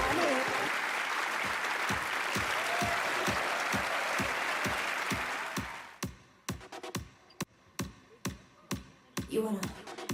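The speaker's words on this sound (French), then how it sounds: "On les applaudit, on les remercie." Audience applause at the finale of a French fashion model contest with no size criteria, dense sustained clapping for about six seconds before thinning out into scattered individual claps under a steady rhythmic music beat.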